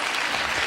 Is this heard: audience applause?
yes